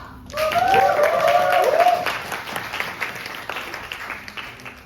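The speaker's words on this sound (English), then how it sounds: "Please, with a huge round of applause, once again, welcome our president for her address" An audience applauds as a president is welcomed to a closing ceremony, with a burst of steady clapping and a voice calling out over it early on, then fading to scattered claps.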